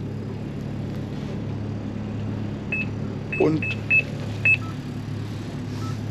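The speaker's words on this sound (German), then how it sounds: "jetzt piepst ein bisschen was" A handful of short, high electronic beeps sound in a loose, irregular series over a steady low engine hum during winter pike fishing on a boat, with a brief voice in between.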